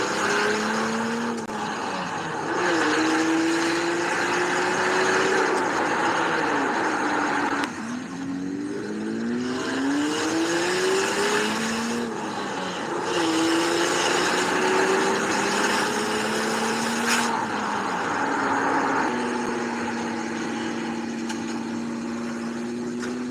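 A turbocharged sleeper minivan engine revs repeatedly, climbing in pitch with each pull and then dropping back. Between the pulls the turbo whooshes and the engine idles, loud and close throughout.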